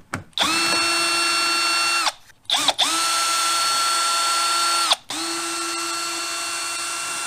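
Cordless power tool spinning out T15 Torx bolts from the rail molding of a 2019 GMC truck during plow mount removal, three steady high whirring runs with brief pauses between, close and loud.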